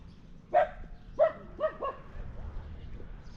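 Dogs bark during a bike ride after rain, with four sharp barks close together in the first half, then only a low background rumble.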